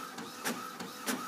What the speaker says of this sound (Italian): Controlliamo se la stampante fa bene il suo lavoro.